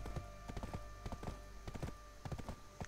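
Horse hooves clip-clop steadily in Black Desert Online, an MMORPG, with rhythmic game footfalls repeating across the moment over faint background game ambience.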